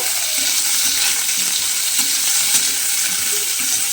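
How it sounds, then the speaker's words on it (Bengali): Brinjal pieces fry in hot oil until reddened, giving a steady, close broadband sizzle with soft bubbling that holds evenly throughout, with no voices. "বেগুনগুলোকে খুব ভালোভাবে লাল করে একটু ভেজে নিতে হবে"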